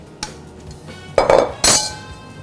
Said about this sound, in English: Now I'm gonna spread the whole mix in my baking pan.